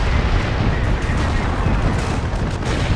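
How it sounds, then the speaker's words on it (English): An artillery barrage in a Company of Heroes 2v2 match: a continuous, heavy roar of overlapping booms and blasts rumbles loudly throughout, with no break and no voices. "But once again, another barrage coming in from here."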